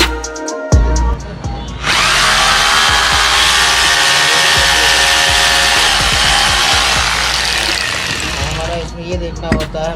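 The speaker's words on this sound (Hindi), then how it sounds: "ये देखना होता है हमें ड्रिल का सिस्टम और हैमर का सिस्टम" A power drill or rotary hammer being tested during repair runs steadily and loudly for several seconds with a harsh whining motor drone, starting abruptly after a few clicks and winding down near the end.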